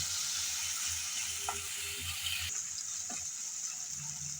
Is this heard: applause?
no